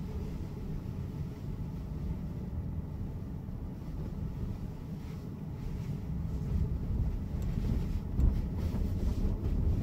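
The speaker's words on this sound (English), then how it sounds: "It is relatively windy." Wind roars in a steady, broadband rush around a Tesla Model 3 driving through snow, with a low rumble that builds slightly toward the end; no talk is heard.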